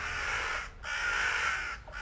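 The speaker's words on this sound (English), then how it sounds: "I've got crows." Crows in the video game Reka caw in two loud, harsh, rasping bursts, close and dominant, separated by a brief pause, with no speech.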